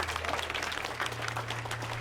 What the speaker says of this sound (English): Would you also please give a nice round of applause to the Central High Jazz Ensemble?